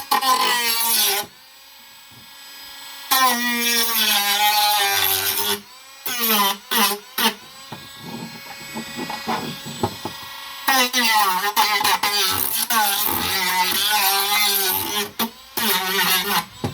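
A HARDELL 8V cordless rotary tool grinds and cleans up a part, its high whine rising and dropping in repeated bursts with short pauses between passes, loud and close.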